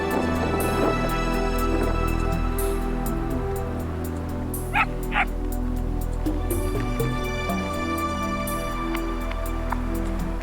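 Herding dogs working a herd of 600 reindeer in the Siberian north give off soft yips and whimpers over a steady low drone, with a couple of brief sharper calls midway.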